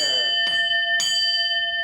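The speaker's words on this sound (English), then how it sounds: "we're going to ring in the bell and ring in the new year." A bell rings twice in succession, clear and bright, each strike leaving a long, sustained metallic ring that carries through to the end.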